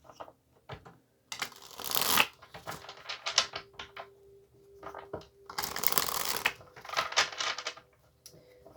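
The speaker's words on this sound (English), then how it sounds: "let's give the tarot a few shuffles" Tarot cards being shuffled in several quick bursts of crisp riffling and flicking, close by, with short pauses between rounds.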